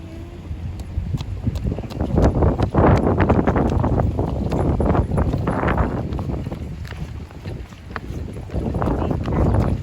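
Strong wind buffets a microphone outdoors in Toronto, a loud, rough rumble that swells and fades in gusts without let-up and with no one speaking.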